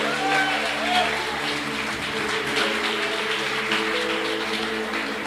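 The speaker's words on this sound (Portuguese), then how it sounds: "Aplauda o Senhor com vontade, que é para Ele." A church congregation applauds steadily throughout, a broad wash of clapping beneath a sustained musical backing, with no distinct breaks.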